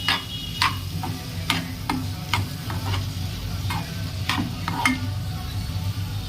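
Ridge gourd curry being stirred and mixed in a pan, with repeated sharp scraping strokes of a spoon over a steady low sizzle, close and fairly loud, no talking.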